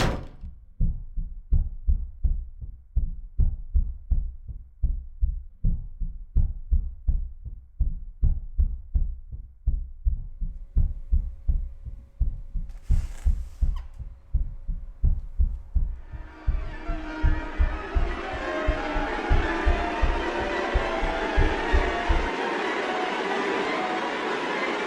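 A steady, loud heartbeat-like pounding fills a room in Silent Hill 3, dozens of evenly spaced deep thumps repeating for most of the stretch, then giving way to a rising hiss of ambient noise.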